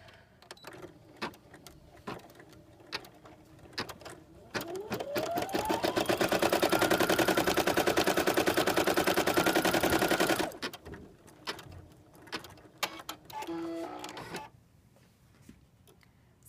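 An embroidery machine stitching a logo spins up and runs with a loud, rapid mechanical rattle for several seconds, then stops. Close clicks and thumps from handling the machine come before and after the run.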